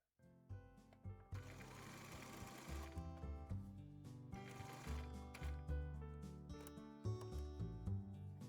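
A sewing machine stitches fabric for a drawstring bag, whirring steadily in several short runs with brief pauses and mechanical ticking between them, close and alone with no talking.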